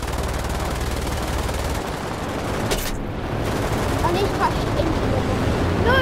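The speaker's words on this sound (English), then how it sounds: "bullets flying everywhere" Gunfire in War Thunder, dense continuous bursts of aircraft machine-gun fire over a steady engine roar, with a voice talking faintly underneath.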